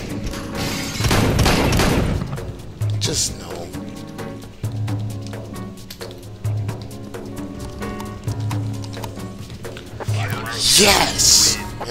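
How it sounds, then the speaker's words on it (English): Shotgun blasts in Counter-Strike: Global Offensive, a string of sharp booming shots at irregular intervals amid other game effects, with someone talking over them throughout. "I'm starting to like this shotgun a lot."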